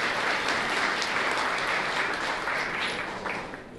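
A large audience at a public forum on development trends gives sustained, steady applause, loud and dense for several seconds before gradually tapering off near the end.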